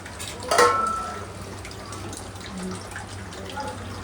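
Tap water runs steadily in a home kitchen, a soft continuous hiss with a brief louder splash or clatter near the start, then settling into a low, even flow.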